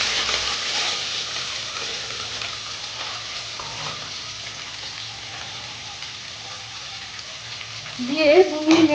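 Chopped onions dropped into hot oil with garam masala in a pan sizzle loudly and steadily, easing slightly over time before stirring scrapes and clatter of the spoon near the end.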